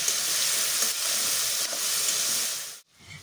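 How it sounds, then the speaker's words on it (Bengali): Tomatoes sizzle hard as they are stir-fried with salt for a Bengali biuli dal with prawns, a loud, steady, close frying hiss with faint stirring scrapes, cutting off abruptly near the end. "টমেটোটা একটু নেড়ে ছেড়ে এর মধ্যে দিয়ে দেবো পরিমাণ মতন নুন"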